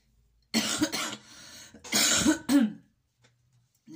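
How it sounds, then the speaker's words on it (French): A woman coughs in a few harsh bursts, close by, with a short pause between fits and near silence afterward. "je suis désolée parce que je fais que tousser"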